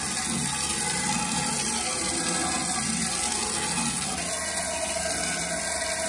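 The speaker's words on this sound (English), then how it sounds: "We're gonna wash them off, let them dry, flip them over" Found pieces for a homemade fingerboard skatepark being rinsed under a running tap, with a steady, close, continuous gush of water into a sink and no voices.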